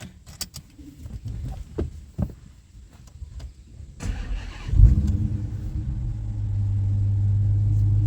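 A 2019 Dodge Challenger R/T muscle car starts up after a few cabin clicks and rustles, the engine catching with a loud burst and then settling into a deep, steady rumbling idle, close and prominent.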